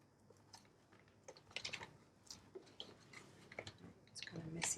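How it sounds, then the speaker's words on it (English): Tarot cards are shuffled softly, a quiet patter of light flicks and taps coming in brief bursts. "Let's give one more shuffle."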